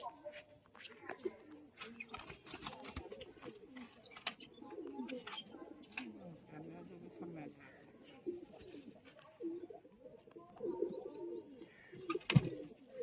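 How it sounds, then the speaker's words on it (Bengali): Giribaz pigeons from Murshidabad coo softly in low, rolling bursts, mixed with rustling and faint background voices and ending in a few sharp knocks. "গিরিবাজ পায়রা দেখুন বন্ধুরা"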